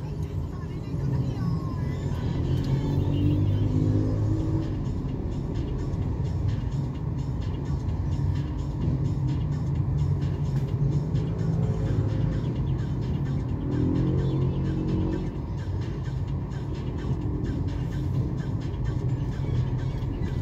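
Cars crawling through heavy road traffic, a continuous low rumble of idling and moving engines with occasional passing vehicles.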